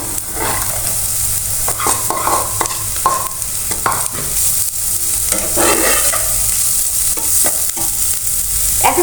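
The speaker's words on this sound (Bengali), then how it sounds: "এরপর আমি দিয়ে দিচ্ছি আলু কুচি" Chopped potato goes into a hot frying pan and is stirred among chopped chili and other vegetables for a savory snack, giving a steady loud sizzle with repeated scraping strokes of the spatula, no voices.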